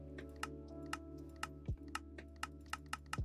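Close mouse clicking from spam-clicking in modded Minecraft, irregular sharp taps spaced a fraction of a second apart over a constant low game drone, with a couple of softer swooshing interface sounds.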